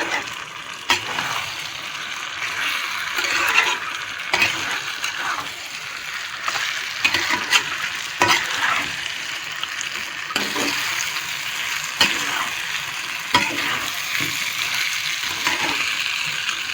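Previously fried fish heads are stirred in a pan for muri ghonto, with repeated scraping clacks of the spatula over a soft, steady background sizzle.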